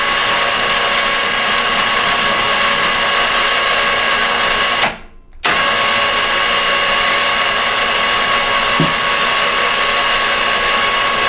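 Front winch on a Polaris Ranger winding its cable through a pulley, a continuous loud mechanical whirring and grinding drone that cuts off briefly midway and then resumes.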